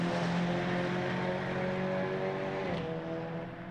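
Touring race cars in a TCR sim racing game at Knockhill droning past and pulling away, their engine tones holding steady and then thinning out as the sound fades.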